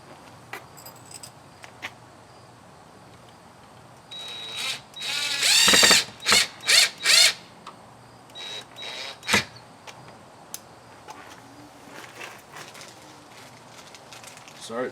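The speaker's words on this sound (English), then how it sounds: "Something that I usually do is I use just a power drill instead of the screwdriver" A power drill drives screws into a Ring camera mounting plate in several short whirring bursts, close and loud, with quiet handling sounds in the pauses between.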